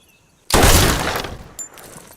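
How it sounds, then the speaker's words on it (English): A gun is test-fired in a single loud, sudden blast that decays over about a second, followed by a faint metallic clink. "Never trust a weapon you haven't personally test fired."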